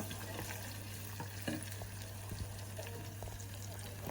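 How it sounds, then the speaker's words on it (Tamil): Mutton with onion and green chili stirred in a pan, a steady low sizzle with scattered scraping and clinking of a spoon, fairly quiet and continuous under a constant low hum. "இப்போ வந்து வெட்டி வச்சுருக்க வெங்காயம் பச்சை மிளகாயை போடுவோம் போட்டுட்டு வடிவாக கிளறி விடுங்கோ"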